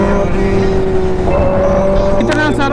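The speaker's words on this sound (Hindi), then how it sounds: "ऑटो का रैली" An Independence Day rally of auto rickshaws and motorbikes passes on a village road, a loud continuous blend of engine drone and honking close by, with voices mixed in.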